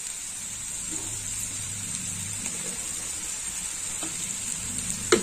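Water poured into a hot karahi of sizzling salt, red chilli powder and coriander powder for a bitter gourd dal, giving a steady loud hiss with faint clinks of stirring near the end.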